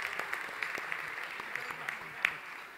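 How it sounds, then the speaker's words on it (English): Audience applause for the band at a roast event, a steady patter of clapping from a modest crowd with a few sharper claps standing out. "It's a great band. Give them a round of applause."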